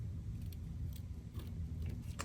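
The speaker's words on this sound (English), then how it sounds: "I'm going to take my scissors now and just cut kind of down the middle." Scissors cutting down the middle of cardstock for a stamped card project, a few crisp snipping strokes with short bursts spread over about two seconds, close and steady with no talking.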